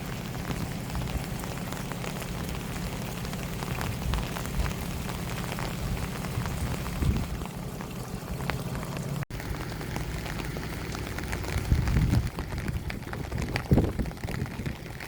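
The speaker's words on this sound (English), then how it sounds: "Since it started raining early this morning, and it's still raining." Steady rain falling on a surface outdoors in Topeka, Indiana, a dense, even patter that carries on throughout with occasional louder drips and no talking.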